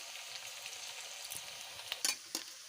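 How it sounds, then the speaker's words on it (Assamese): Onions fry in a pan for a duck curry, a soft, quiet sizzle running throughout, with a few sharper stirring scrapes and clinks near the end and no voices. "পিঁয়াজখিনি 2 মিনিটমান ভাজি ল'ম মই"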